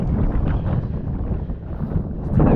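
Steady blustery wind buffets the microphone out on open water on a fishing trip at Tekhtyur, a continuous low roar that swells louder near the end, with no talking.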